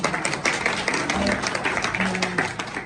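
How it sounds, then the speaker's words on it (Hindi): A theatre audience in Delhi claps together in a dense, sustained burst of applause after a Kabir song performance, with faint voices and music tones mixed in underneath. "आपको मजा ताली बजा दीजिए।"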